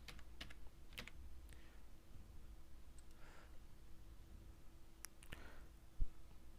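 Keys tapped on a computer keyboard while a search word is entered into a Canva design tool, a few scattered soft clicks over a steady low hum, close and fairly quiet, with no talking.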